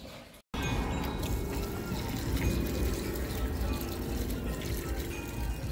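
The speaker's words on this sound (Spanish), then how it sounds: "vamos a echarle agua. Agua a mis plantitas pobrecitas que están sufriendo." Water pours and trickles steadily onto garden plants, a close, continuous splashing after a brief silent break at the start.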